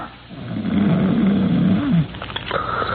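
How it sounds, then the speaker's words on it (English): A big, heavily muscled, early middle-aged man snores in bed, one long loud rasping drawn-out snore with a rough throaty rattle, close and dominant, then a quieter noisy tail. "comes a rhythmic and ear-shattering snore"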